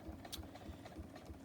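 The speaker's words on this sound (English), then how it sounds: "I am top stitching this about 1/8 of an inch from the edge of" A sewing machine top stitches a trim piece on a silicone trivet, its needle thumping in an even quick rhythm, about three strokes per second, faint and close with a steady motor hum.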